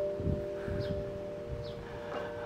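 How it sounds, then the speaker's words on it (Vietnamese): Wind chimes ring with faint, sustained metallic tones that hang steadily in the background, with occasional brighter tinkles drifting over a quiet outdoor setting. "Ở đây chúng ta sẽ nghe những cái tiếng chuông gió này."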